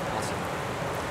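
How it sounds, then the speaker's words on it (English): Steady rain hissing down during a December paddling trip on the flooded Allier River in France, a soft even wash of noise with no distinct drops standing out. "it's starting to rain"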